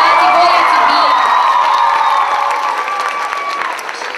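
Crowd applauding and cheering for a winning band at a school music contest, loud and sustained clapping with shouts and whoops that tapers off slightly toward the end.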